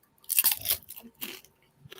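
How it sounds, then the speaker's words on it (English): A close, crisp crunch as crunchy fried Chinese food is bitten, followed by a couple of softer chewing crunches, with no talking. "It's actually nice and crunchy when you bite into it."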